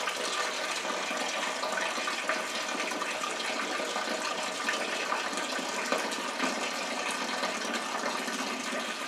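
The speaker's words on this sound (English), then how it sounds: "I added hot water, stirred it, and drain that off." Hot water drains steadily from a home-brew ale mash, a continuous faint rushing and splashing with no talk.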